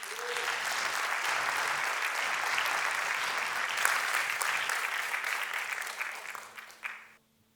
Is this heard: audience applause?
yes